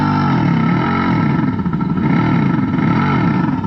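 A Revolt RV400 electric motorcycle's speaker plays a synthetic engine sound modeled on a KTM Duke. The result is a deep, continuous, loud rumble with a slowly pulsing, revving character and no talking over it.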